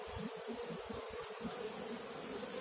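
Dense, continuous buzzing of many honeybees up close in an open hive, a steady hum with no voices.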